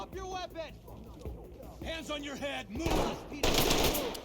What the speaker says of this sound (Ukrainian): Куда він стріляв? Хто застріляв?